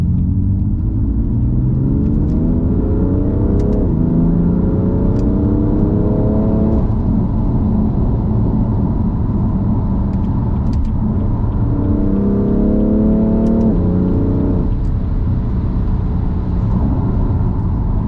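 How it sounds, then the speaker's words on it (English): Loud road and tire roar inside a 2016 BMW M3 Competition cruising at about 100 km/h, a steady rumble with engine tones rising through a couple of gear changes, no talking. "We're just cruising along about 100 k's, and you can just hear the road noise, quite loud road noise."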